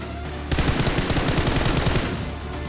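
Rapid automatic gunfire in PUBG/BGMI winter mode on an iPad 9, a loud sustained burst of close shots that starts suddenly and rattles on for about a second and a half before stopping.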